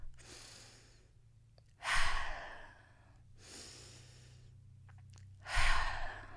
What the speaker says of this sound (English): Let's take 5 deep breaths right now.